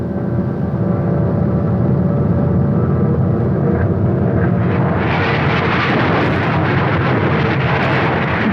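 Loud continuous droning roar of B-29 bomber engines, steady and near, swelling into a broader, rougher roar about halfway through and staying heavy to the end.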